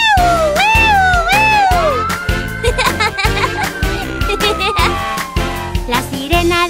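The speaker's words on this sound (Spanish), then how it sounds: "La sirena del camión de bomberos suena por toda la ciudad." A rising and falling fire truck siren wail sweeps over a bouncy children's Halloween song, with steady drums and bass and giggly voices, loud and upfront throughout.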